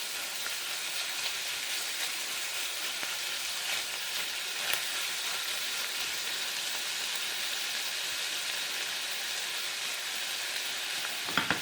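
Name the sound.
garlic and onions sizzling in a pan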